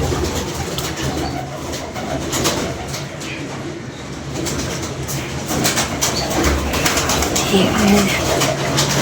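Large pigeons coo in a loft, their soft repeated calls running through a dense, steady wash of background noise that stays fairly loud throughout.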